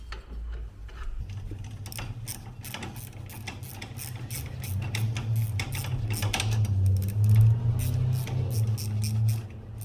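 A ratchet wrench tightens brake caliper bolts on a Fiat 500 during a pad and disc change. It makes a steady run of close, crisp pawl clicks over a low mechanical hum, growing slightly louder toward the end, with no talk.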